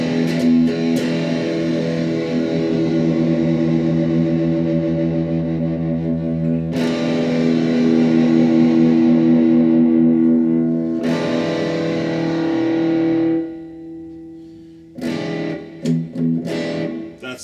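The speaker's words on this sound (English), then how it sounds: "bringing the distortion all the way up just to be ridiculous." An electric guitar through a Danelectro D-1 FAB distortion pedal set to maximum distortion, with thick, fuzzy sustained chords that ring out and decay, then a few shorter stabs near the end, played loud and alone.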